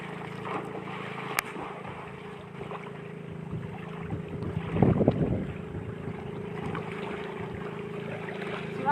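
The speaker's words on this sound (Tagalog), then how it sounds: "Medyo malakas yung bagyo dito sa amin eh." Strong typhoon wind at the sea buffets the microphone in a continuous low roar, with a sharp knock early on and a louder rumbling gust midway.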